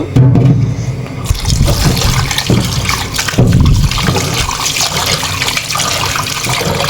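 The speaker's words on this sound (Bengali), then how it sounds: "প্রথমে গোস্তগুলো ধুয়ে নিব" Running water splashes steadily over pieces of beef being washed in a kitchen, a continuous loud rushing pour with occasional sloshing.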